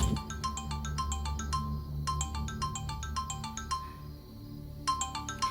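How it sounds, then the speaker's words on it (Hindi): Phone ringtone chiming in quick repeating bursts of bright tones, pausing and starting again, fairly clear over a low background hum with no speech. "आ गया फोन।"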